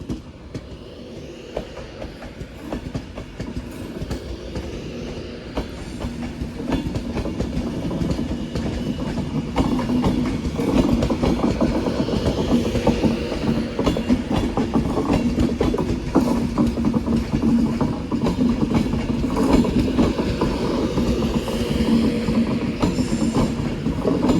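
A Class 390 electric train, unit 390 151, pulls into Manchester Piccadilly station. A low rumble swells as it nears, then rhythmic wheel clatter and faint squeals sound over a steady loud roar for about twenty seconds.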